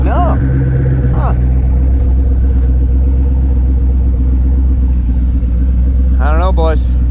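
A motorhome engine rumbles steadily at close range while the vehicle tries to move through dirt, with a deep continuous drone and brief speech near the start and end.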